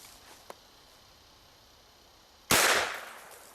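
A gun fires a single sharp, loud shot at a lock, its blast decaying over a moment after a small earlier click, with no talk.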